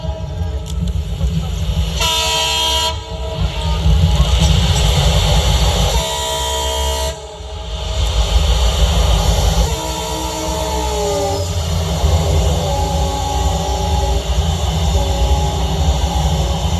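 A train sounds two long, loud horn blasts over the steady rumble and clatter of a fast-running train, with the horn returning as shorter, wavering tones near the end, in a village comedy stage sketch about catching a train to Pachora.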